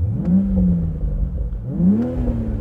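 A BMW Z4's 3-litre straight-six engine revs up twice, each sharp rising blip settling back, loud and close inside the car.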